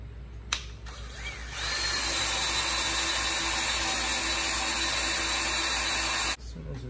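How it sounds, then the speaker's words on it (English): A power drill revs up after a brief click and bores steadily for several seconds at a constant high whine, then abruptly stops. "I can put a pin in here and a pin in here and drill us a hole."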